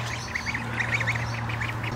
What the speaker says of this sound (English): there are the duck and the goose for today